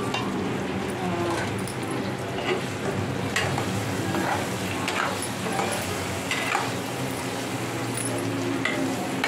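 Eggplant frying in oil in a pan with steady, close sizzling and crackling, broken by occasional stirring scrapes and light utensil clinks throughout.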